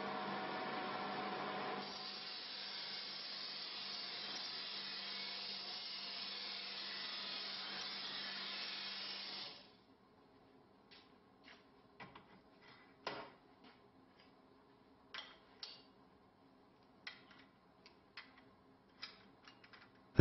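A grinding wheel works a steel sword blade, producing a steady, loud abrasive whir for about ten seconds before cutting out, followed by scattered light knocks and clicks of handling against a quiet background.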